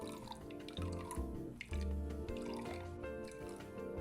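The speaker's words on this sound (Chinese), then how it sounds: "将斑斓汁倒入个较大料理碗里" Pandan juice poured into a large mixing bowl gives a close, continuous liquid splashing and trickling, fairly faint, with small drips and gurgles throughout.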